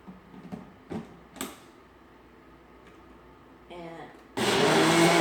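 A small smoothie blender loaded with ginger and water starts up with a loud, steady whirring roar after a few clicks and taps as the lid closes and the jar is set in place.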